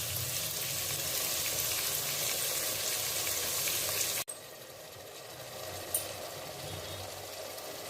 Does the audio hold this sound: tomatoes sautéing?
yes